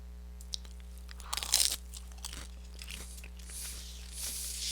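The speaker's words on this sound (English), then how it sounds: "I'm going to eat a chicken nugget." Close, crunchy chewing of a chicken nugget, a few sharp bites followed by softer mastication over a faint steady electrical hum, no talking.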